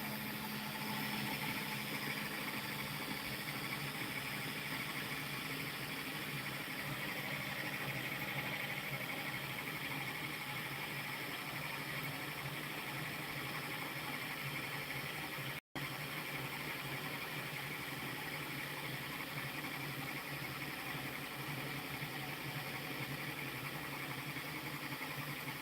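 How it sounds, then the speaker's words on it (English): A homemade pulse motor with coils and a 3D-printed rotor carrying eight magnets runs steadily, giving a continuous whirring, buzzing drone at close range with no talking, briefly cut by a single dropout partway through. "We are building a pulse motor circuit."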